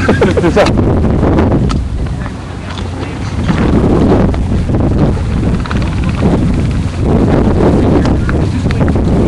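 Gusty wind buffets the microphone outdoors on a cold, rainy day in Newport, a steady loud rumble with swells and dips throughout.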